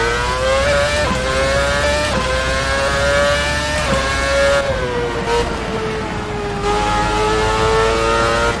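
An F1 car from 2011 or later, with DRS, races the Goodwood hill in Assetto Corsa, its high-revving engine screaming loud and close, pitch rising through each gear and dropping sharply at every upshift, with no speech.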